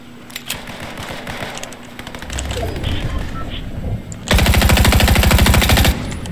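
Golden gun firing in Fortnite, scattered shots early followed by a loud, rapid sustained burst of automatic fire lasting over a second, with a player's voice heard around the shooting.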